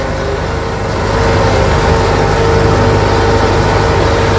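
A tractor engine runs during hay work, a loud, steady low drone and rumble that swells a little after the first second and holds constant with no voices over it.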